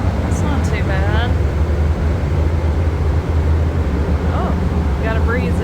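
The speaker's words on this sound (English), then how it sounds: "Sorry it's so loud. There is an engine down here." A tall ship's engine drones loud and steady in the cramped engine room, a deep continuous rumble with wind-like roar, while people talk over it.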